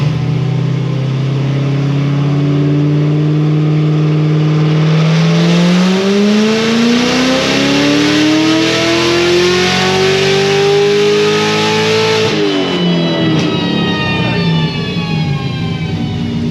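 A car engine at full throttle on a dyno, its revs climbing steadily for about twelve seconds before the throttle drops off, loud and close with a rising pitch and no voices.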